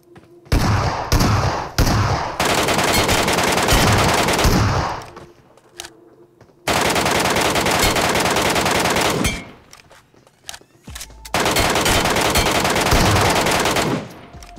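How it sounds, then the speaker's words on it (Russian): Long bursts of rapid automatic gunfire from all sides in PUBG Mobile's Metro Royale mode, loud and sustained, broken by brief pauses between volleys. "стрельба вообще со всех сторон идет"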